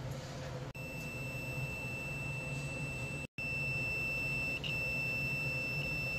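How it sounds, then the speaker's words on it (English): A multimeter continuity test on compressor terminals: a thin, high electronic beep holds steadily for several seconds with one brief break, over a low background hiss. "we're going to do on each lead just to make sure it's beeping"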